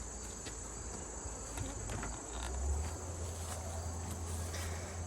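Honeybees hum steadily inside an opened hive with close to ten frames of bees during an autumn inspection, a dense continuous buzz with faint handling noises, close and alone.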